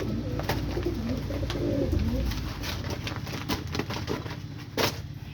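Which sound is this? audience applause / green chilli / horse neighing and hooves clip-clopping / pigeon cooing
pigeon cooing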